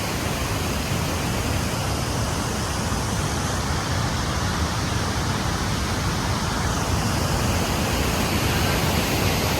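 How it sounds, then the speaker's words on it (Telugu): Water rushing between hills at Valsampeta waterfall near Narsipatnam, a dense, steady roar of flowing water filling the whole stretch with no voices. "ఈ కొండల మధ్యలో అయితే వాటర్ అయితే పారుతుంది ఫ్రెండ్స్"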